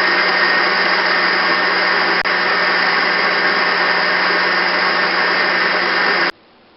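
An electric mixer whirs loudly and steadily as it blends peppers with salt for Tunisian harissa, holding one even motor drone for about six seconds before cutting off abruptly.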